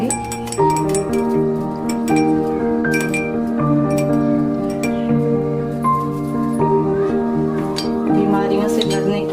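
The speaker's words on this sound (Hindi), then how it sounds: "मिक्स करेंगे।" A spoon clinks repeatedly against a glass while an herbal kadha immunity drink is stirred and mixed with a quarter teaspoon of powder. The light, close clinks come in an irregular rhythm over a steady tonal background.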